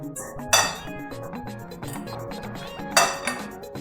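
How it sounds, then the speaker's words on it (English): A fork mixing tomato salsa in a bowl, sparse clinks and taps of metal against the bowl, two sharper knocks standing out, with faint music underneath. "the next thing is to mix with my fork"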